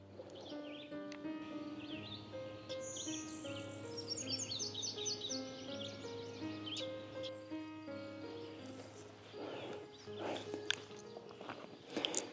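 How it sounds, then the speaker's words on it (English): Outdoors, a blue-winged warbler sings in high, buzzy phrases at a distance, with other chirps and footsteps nearby. "a blue-winged warbler that's calling up ahead of me"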